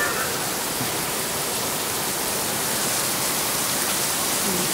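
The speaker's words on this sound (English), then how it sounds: "It's been constantly raining and yeah, today's no exception." Heavy rain pours down during a UK downpour in June, a loud, dense and steady hiss of water that continues without a break.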